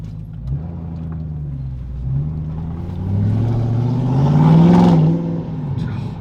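An Audi RS6 fitted with a new Milltek exhaust accelerates, its deep engine drone climbing steadily in pitch and loudness before easing off, heard continuously from inside the car.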